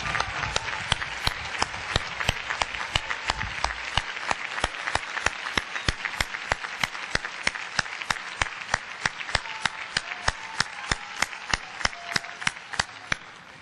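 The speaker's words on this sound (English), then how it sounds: "please stand and accept a round of applause for all that you have done" A law school commencement audience applauds, a sustained crowd clapping with a sharp, regular clapping pattern standing out above the broader applause throughout.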